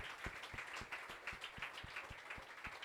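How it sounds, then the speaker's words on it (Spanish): Steady rhythmic clapping at a church service, about a dozen evenly spaced claps, close and moderately loud, with no talking. "Dele un aplauso al Señor."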